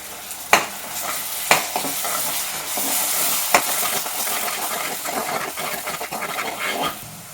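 Blended tomato puree cooking in a pan over onion paste, a continuous sizzle and hiss with a few sharp knocks of a spoon against the pan while stirring, close by and without talk.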